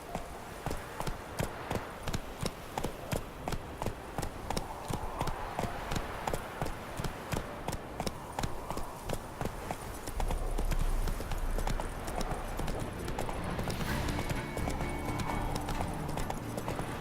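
Roach the horse galloping in The Witcher 3, a steady rapid clip-clop of hooves throughout, then a low rumble and a shift in the surrounding game sound near the end.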